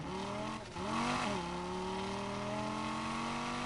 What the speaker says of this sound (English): since the cars are so loud in this game, like I can't even hear myself talking